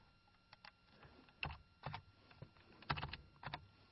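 Keys tapped on a computer keyboard while entering shortcuts such as copy and paste, a few sparse separate clicks and short clusters, close and fairly quiet with no talking.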